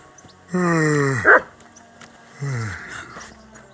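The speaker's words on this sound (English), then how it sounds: "Barking." A dog in the video game Kingdom Come: Deliverance II barks a few times in short strained bursts, then again after a pause, fairly close and with nobody talking.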